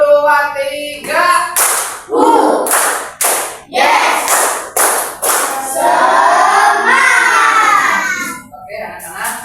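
Schoolchildren in a classroom clap in unison in a counted pattern, sharp bursts of hand claps in groups separated by short pauses, with a teacher's voice and children's voices calling out between the claps.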